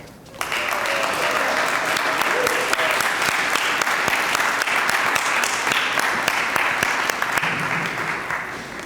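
A groundbreaking ceremony audience bursts into applause welcoming a muralist, sustained loud clapping from a sizable crowd lasting several seconds, steady and close, with no speech over it.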